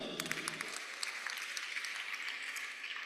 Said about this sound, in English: Please, a round of applause for the Vice-Chancellor.